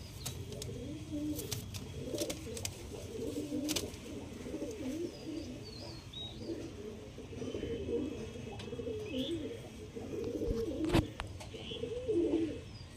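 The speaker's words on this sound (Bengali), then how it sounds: "দুটোই মাদা পায়রা পিলে আঁকে" A pair of female pigeons coos continuously in soft, throaty, rolling phrases, close by and fairly quiet, with faint clicks and background noise.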